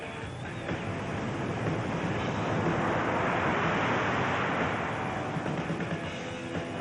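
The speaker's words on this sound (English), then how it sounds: "Winds have now picked up to about 30, 35 miles an hour with stronger gusts." Strong wind of 30 to 35 mph with stronger gusts roars over crashing surf at a windsurfing event, a broad, continuous rush that swells in the middle, with rumbling buffeting against the microphone.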